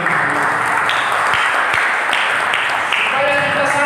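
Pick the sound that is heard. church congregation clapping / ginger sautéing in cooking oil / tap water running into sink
church congregation clapping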